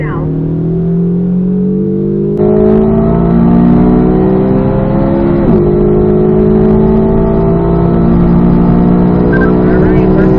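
Chevrolet Corvette C8 Z06 on a track, the engine loud and close as it pulls hard with rising pitch, then a brief break for a gear change and another rising pull; a voice talks over the engine.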